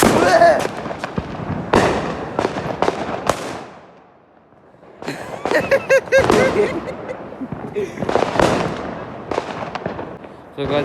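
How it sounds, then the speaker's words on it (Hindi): A Penta Sky firecracker set off on a Diwali night outdoors: a fast run of sharp loud pops and bangs, a brief quiet gap, then a second dense volley of cracks, with people talking and laughing between the blasts. "ये मेरा पहला पटाखा यह है पेंटा स्काई"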